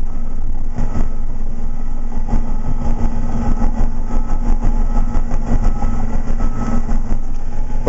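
A Caterpillar 963C track loader digs on a finished pad, its diesel engine running with a steady, loud, droning rumble that holds constant throughout, close and unbroken, with no voices over it.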